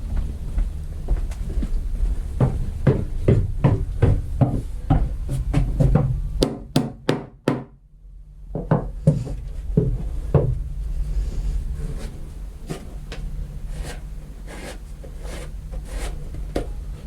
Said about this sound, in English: Do the hammer.